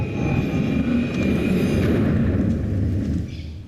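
Loud, steady roar of a passenger airplane from the TV series Lost, a broadband engine rumble that fills the whole clip, holding constant before easing off slightly at the end; no talking.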